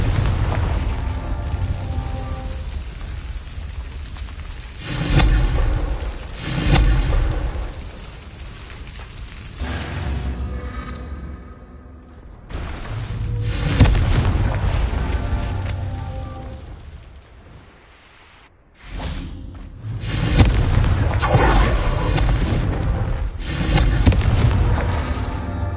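Fiery blasts from the Confringo explosion spell in Hogwarts Legacy, a string of loud, booming bursts that swell and crackle in waves, with no talking.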